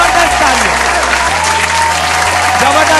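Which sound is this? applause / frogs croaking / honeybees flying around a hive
applause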